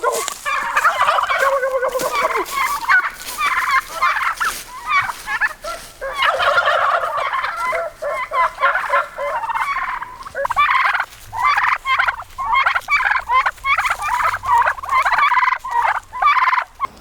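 A flock of farm turkeys, males and females, gobble and yelp loudly and close by in dense overlapping bursts with only brief pauses between calls.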